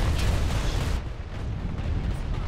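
Rocket launchers fire in a video game, a loud, dense burst of blasts in the first second that settles into a sustained rumble and crackle.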